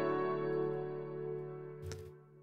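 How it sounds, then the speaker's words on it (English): Ableton Live's grand piano with a Max Humanizer effect, panned hard left, rings out a sustained chord that slowly decays, followed near the end by a brief soft percussive knock. "which is actually just Ableton Live's grand piano with Max Humanizer added to it"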